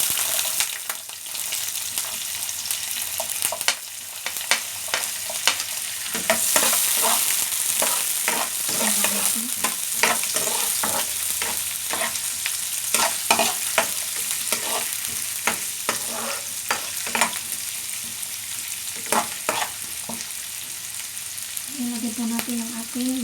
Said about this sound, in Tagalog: So, lagyan na po natin ang onion.